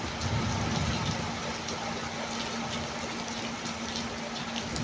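Steady rain falls in Dammam, Saudi Arabia, a dense continuous hiss of drops on surfaces, fairly loud and even throughout, with a faint low hum underneath.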